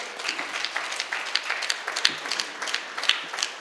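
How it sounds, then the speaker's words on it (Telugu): Clapping from a crowd at an International Meditation Day spiritual gathering, a lively patter of hands with sharper individual claps standing out, continuing evenly throughout. "ఆయన ఒకసారి గట్టి క్లాప్స్ కొడతాం"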